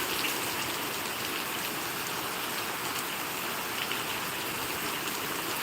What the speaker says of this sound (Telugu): మన టార్చ్ లైట్తో కూడా చూస్తే వర్షం ఈ రేంజ్లో పడుతుంది